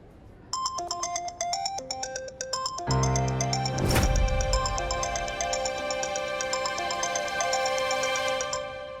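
A phone ringtone repeats over and over as a call goes unanswered, loud and close throughout, with a brief louder burst near the middle and no talking.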